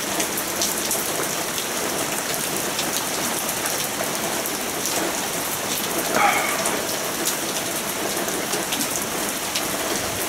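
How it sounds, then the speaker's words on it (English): Steady rain pours down during an evening storm, a dense hiss of drops on surfaces with a faint rumble of thunder in the background, no voices. "There's still a pretty big storm coming behind it."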